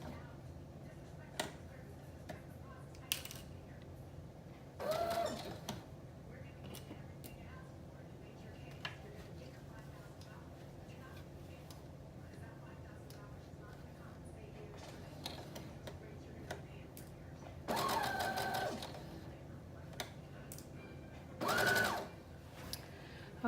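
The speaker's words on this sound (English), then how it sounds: "I'm going to use a long stitch, and I'm just going to kind of baste these in place" A sewing machine runs long basting stitches on a flounce for a Simplicity 8637 wrap dress, sounding in three brief whirring bursts separated by quiet stretches over a faint room hum.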